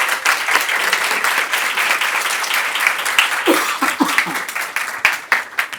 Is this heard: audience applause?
yes